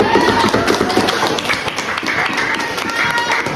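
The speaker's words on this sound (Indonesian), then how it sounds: "Tepuk tangan untuk kita semua." Children clap together in a classroom, a dense, steady patter of small hands that carries through the whole stretch alongside some background voices.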